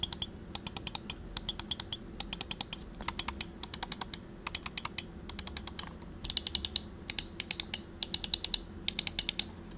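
Main buttons of a Scyrox V8 gaming mouse click in quick repeated bursts, sharp crisp taps in rapid clusters separated by short gaps, close and clear over a quiet background, with no talking.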